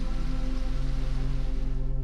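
Heavy summer rain pours down over a herd of a thousand unprotected dairy cows in Western Australia, a dense, loud, unbroken hiss of water filling the whole short stretch.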